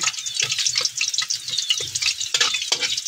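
Garlic and onion fry steadily in a pan for pancit canton, giving a loud, continuous close-up sizzle broken by scraping, stirring knocks as the spatula moves them around.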